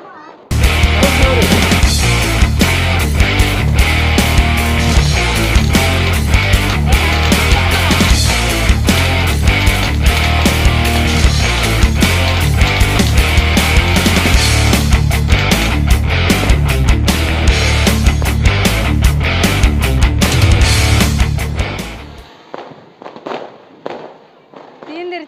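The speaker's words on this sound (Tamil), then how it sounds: "தீந்துருச்சு அப்பாடா, வெடிச்சு முடிச்சாச்சுங்க." A Diwali firecracker string goes off nearby in a relentless, very loud rattle of rapid bangs lasting around twenty seconds, then stops abruptly, leaving only a few faint scattered pops.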